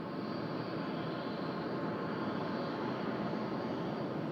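A jet engine run-up at Sydney Airport roars steadily and loudly, a dense unbroken rumble with no pauses.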